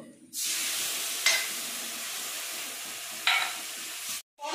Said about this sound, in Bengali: মশলাটাকে ভালো করে একটু ভেজে নিতে হবে।